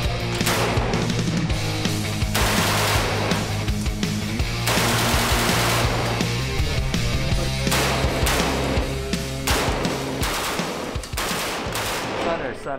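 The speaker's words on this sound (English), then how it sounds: "Shooting in the automatic mode." A machine gun fires in automatic mode at an indoor shooting range, with loud, close, rapid bursts that repeat almost without a break.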